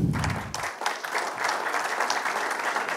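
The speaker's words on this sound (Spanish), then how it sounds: "Mientras van subiendo, un aplauso para todos ellos." An audience at a transport passenger forum at Expocarga 2025 applauds panel guests as they come up, dense sustained clapping from many hands with no talk over it.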